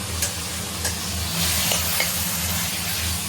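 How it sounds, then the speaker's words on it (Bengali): Garlic fries with onion in a pan, a constant close sizzle with occasional soft stirring clicks over a low hum. "রসুনটা ভাজা হবে পেঁয়াজের সঙ্গে"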